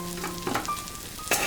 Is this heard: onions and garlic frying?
yes